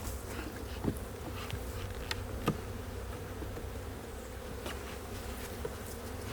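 Honeybees buzz around an opened hive box during hive splitting, a dense, steady drone that fills the whole stretch, with a few brief, louder bees passing close.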